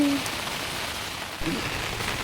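Steady monsoon rain falls outdoors on a countryside path beside farm fields. It makes a dense, even hiss throughout with no clear gaps.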